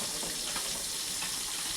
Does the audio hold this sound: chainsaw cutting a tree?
no